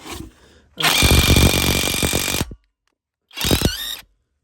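A Stromo AWA25 cordless impact wrench hammers at a rusty 19 mm nut in two loud bursts, a long rattling run and then a short one, with near silence in between.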